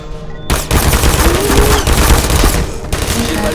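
Rapid turret gunfire from the video game Portal erupts after a brief quiet start, a dense, loud rattling burst that runs nearly continuously for about three seconds.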